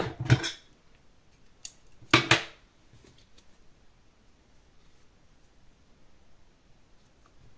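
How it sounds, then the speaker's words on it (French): Scissors snip through crochet yarn in two short, crisp cuts close by, separated by a brief pause, with quiet background otherwise. "On coupe notre fil."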